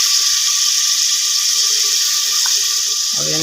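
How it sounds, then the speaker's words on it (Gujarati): Water poured steadily into a cooking pot for khichdi being made on a rooftop, a continuous close, loud splashing stream, ending with a short clatter near the finish. "થોડું આમાં થોડું પાણી રેડી અને પછી પાછું નાખી દઈએ"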